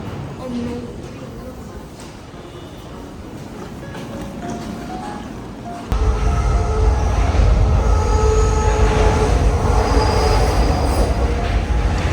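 A Paris metro train rumbles loudly after a quieter stretch, with a steady roar and faint wheel squeal, while people talk nearby.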